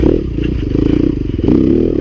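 A Yamaha YZ250FX four-stroke dirt bike rides over dirt with a loud, steady, close engine drone and rattly clatter, the pitch rising and falling with the throttle.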